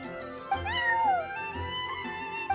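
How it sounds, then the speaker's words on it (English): A cat meows nearby in Genshin Impact, a clear rising and falling call followed by softer, shorter mews. "that's my neighbor's cat."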